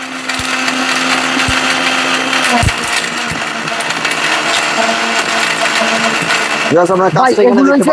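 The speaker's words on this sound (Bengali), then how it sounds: "এমন এক ব্লেন্ডার নিয়ে আসছি আজকে মিয়াকো" A Miyako blender grinding ingredients down to a fine powder, a loud, steady high-pitched motor whine that shifts pitch near the end as a voice begins talking over it.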